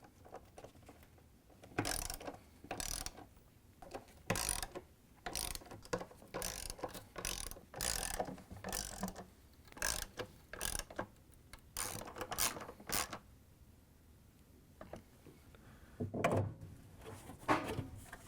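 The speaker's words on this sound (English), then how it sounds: "Now we can take our 10mm socket and go around and tighten them all down." A 10mm socket ratchet clicks in quick bursts while tightening bolts on an LG/Kenmore washer during a seal replacement, with close, crisp pawl clatter broken by short pauses.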